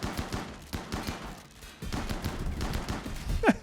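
Rapid bursts of chain shotgun fire in the colony-building game RimWorld, a clattering run of repeated blasts that swells louder in the second half, with no talk over it.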